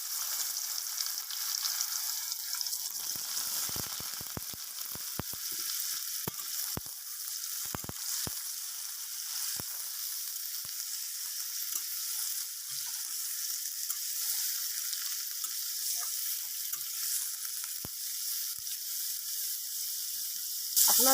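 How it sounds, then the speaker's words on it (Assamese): Jackfruit pieces fry in hot oil in a wok, giving a steady, close hiss of sizzling fat with scattered sharp crackles and pops. No one speaks. "মই প্ৰথমতে কঁঠালখিনি ফ্ৰাই কৰি ল'ম।"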